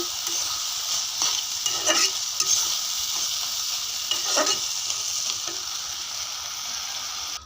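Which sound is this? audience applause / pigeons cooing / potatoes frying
potatoes frying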